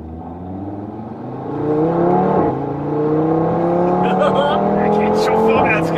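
Engine of a 2016 Audi TT RS with 400 PS, DSG gearbox and dual exhaust, accelerating hard from inside the cabin, rising revs with a sharp crack at a gearshift, then climbing again.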